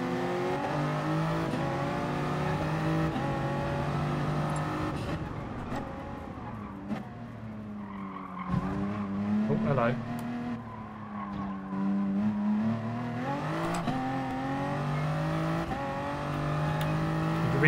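Race car engine in Gran Turismo Sport, a Super GT car driven on track, revving steadily with rising and falling pitch through gear shifts and brief tire squeal, loud and continuous with no talking.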